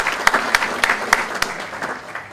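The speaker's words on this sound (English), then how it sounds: "Let's give a round of applause to CMA." Audience applause at a breakfast business event, a short burst of scattered individual claps over a thin clapping wash that thins out toward the end.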